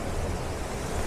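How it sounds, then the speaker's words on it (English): Small waterfalls pour into a river on the Elidir trail in the Brecon Beacons, a steady, dense rushing roar of water filling the whole moment without pause. "we've got these little waterfalls down, and then they are just coming down to the main river"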